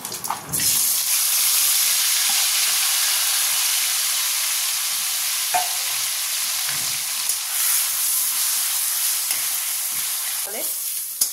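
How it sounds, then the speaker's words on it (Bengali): A bay leaf dropped into hot oil for tempering a Bengali mutton curry sets off a loud, continuous sizzle and hiss, broken by a few faint clinks, with no talking. "এবার একটা তেজপাতা ফোড়ন দিলাম।"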